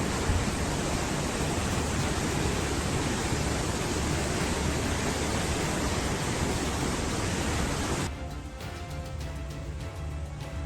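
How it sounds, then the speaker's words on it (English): Rushing floodwaters overflow a river and wash over a road, a loud, steady broadband roar of churning water that holds constant before easing slightly and thinning out near the end. "The rising floodwaters overflowed the river, washing away half of the road and making it impassable."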